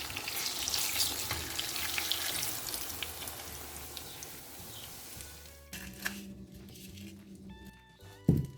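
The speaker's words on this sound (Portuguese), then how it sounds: "eu prefiro fritar porque realça o sabor da banana" Bananas frying in margarine in a pan, a soft steady sizzle that fades, then gives way to quieter kitchen clatter and a brief clunk near the end.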